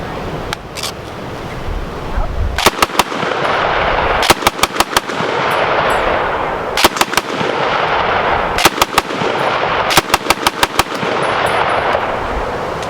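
Firearm at an outdoor shoot fired in rapid bursts of about four to six shots, loud and sharp, repeating every couple of seconds over a heavy wind-like roar.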